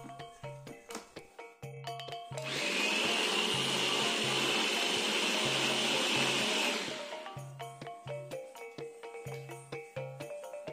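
Electric blender grinding shallots and curly red chilies with a little water, running loud and steady for about four seconds, framed by quieter bursts of background music.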